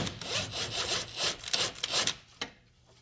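A strut bolt on a 2007 Hyundai Santa Fe is loosened with a 17 mm socket while a 19 mm wrench holds the nut, producing a close, rapid rhythmic rasping ratchet sound for over two seconds before it trails off.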